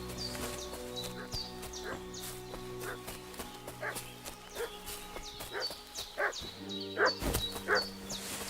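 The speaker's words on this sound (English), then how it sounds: "What's that dog making such a fuss about?" A dog barks repeatedly in the medieval village of Kingdom Come: Deliverance II, sharp bursts scattered across the scene over a background of horse hooves clip-clopping and ambient game noise, fairly near.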